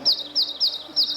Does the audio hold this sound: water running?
no